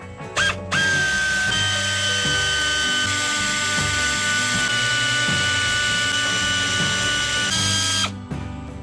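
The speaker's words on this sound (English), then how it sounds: "you can just run them out with your air ratchet" An air ratchet runs out the bolts on a Dana 60 front axle, one loud sustained whirring buzz of nearly eight seconds that starts and stops abruptly, close and alone.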